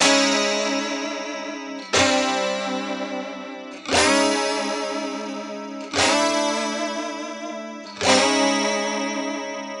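Electric guitar played with a clean tone through both pickups with the coil tap split, sounding five ringing chords struck at steady two-second intervals, each sustaining with a shimmering, effected tail.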